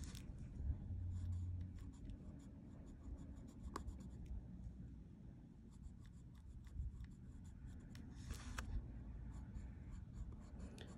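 Graphite pencil shading on paper for a Zentangle drawing: steady soft scratchy strokes, repeated rubbing sweeps close to the page, with no talking.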